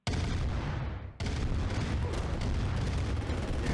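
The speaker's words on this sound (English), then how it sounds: "Tank battle happening here." Dense, continuous rumble of a tank battle with artillery in Command & Conquer: layered booms and blasts roar nonstop, with a brief dip before the barrage surges back at full strength.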